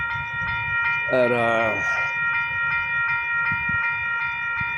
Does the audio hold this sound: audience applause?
no